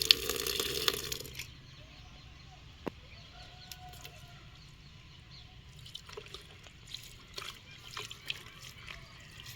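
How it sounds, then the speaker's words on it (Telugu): Water splashes onto a coco peat brick in a wide container in a loud burst for just over a second, then gives way to quiet background with faint clucking and small scattered sounds. "ఇప్పుడు వాటరింగ్ చేద్దాం."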